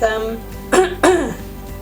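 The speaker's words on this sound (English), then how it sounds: "Just keep on coughing." A person gives two short, harsh coughs close to the microphone, spaced a fraction of a second apart, after a moment of quiet.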